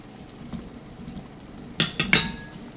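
Utensil mashing cooked ingredients in a pot of caldo de res, a few quick clinking knocks close together near the end after a quiet stretch.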